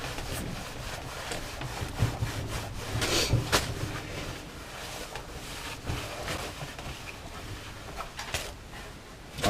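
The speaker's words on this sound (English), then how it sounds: "So I just take some water and just give her a good wipe down" A wet cloth rubs across a snowboard base in repeated quiet strokes, a soft scrubbing swish rising and falling in short irregular passes.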